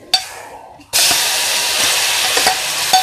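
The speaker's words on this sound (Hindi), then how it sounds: "लाइट ब्राउन होने तक फ्राई करेंगे। देखिए लहसुन ब्राउन होना शुरू हो गया है।" Garlic sizzles and hisses in hot oil in a pan while a spoon stirs it, frying toward light brown for bathua bhujiya; a loud, steady close sizzle with a few soft scraping clicks.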